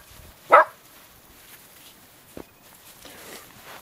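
A single sharp puppy bark rings out near the start on a snowy closed highway, followed by quiet shuffling and a faint tap.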